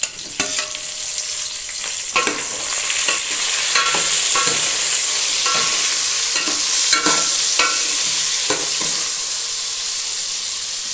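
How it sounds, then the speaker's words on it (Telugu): Tomato pieces for sambar fry loudly in a pan, giving a dense, close hiss. Repeated spatula scrapes and knocks stir through the sizzle at an uneven pace. "ఇంకొక రెండు నిమిషాల పాటు అన్నీ వేగలిద్దాం ఆ ముక్కలు కొంచెం ఫ్రై అయ్యేందుకు"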